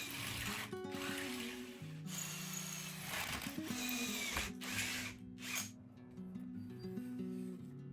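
A power drill bores holes into aluminium extrusion held in a drilling jig, whining in bursts that change pitch as the bit bites, with short pauses and clicks between holes, steady and close.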